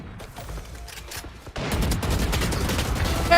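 Rapid Valorant gunfire bursts out after a quieter opening stretch, continuing as a dense, loud stream of shots to the end.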